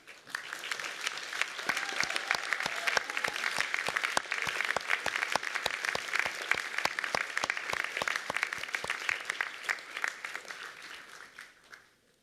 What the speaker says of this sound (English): give them a rousing, noisy round of applause, because they too have earned it